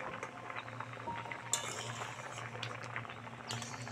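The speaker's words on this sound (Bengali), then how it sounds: "ডালটা ভালো করে সিদ্ধ করে নেব।" Moong dal simmers in a pot with a soft, quiet bubbling, joined by a few faint metallic clinks from a utensil and one sharper clink near the middle.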